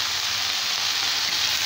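Chopped banana flower sautéing in oil in a pan for vadai gives a loud, dense, continuous sizzle, close up and unbroken, with no voices.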